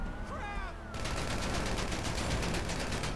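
Rapid automatic gunfire rattles continuously at a bulletproof truck in GTA 5, a dense, loud stream of shots following a brief screech at the start.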